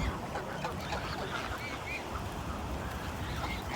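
Geese honking and quacking-like calls from a nearby flock in France, steady over a noisy outdoor background, with occasional faint voices.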